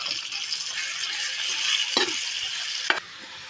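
Ground pork sizzles steadily in a hot pan, a continuous frying hiss with a couple of sharp clinks of a utensil against the pan near the end.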